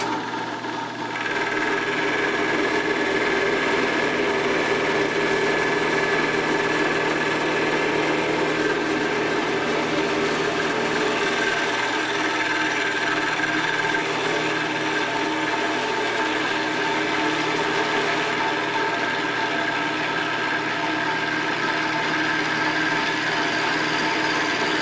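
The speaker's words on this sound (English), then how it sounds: "Here we go with milling the frame rails." A milling machine cuts steel frame rails for an 1880s-style steam drilling engine, giving a steady, continuous whirring grind with a thin high-pitched tone over the motor hum, close and even throughout, no voices.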